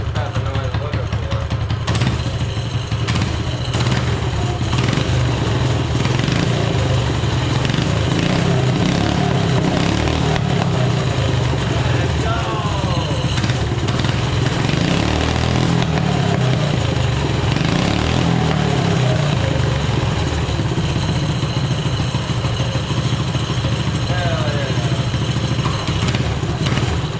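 A budget minibike engine fitted with a 125cc ATV exhaust runs steadily for the whole stretch, a loud, continuous motor drone at close range with some rises in revs and voices talking over it.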